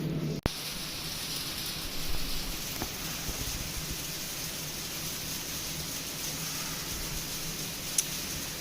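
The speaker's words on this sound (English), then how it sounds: "what you're hearing is sleet" Sleet falling outside a mushroom grow room in winter, a steady soft hiss of icy pellets with faint scattered ticks, continuous and fairly quiet, with no voices.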